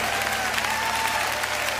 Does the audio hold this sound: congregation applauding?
yes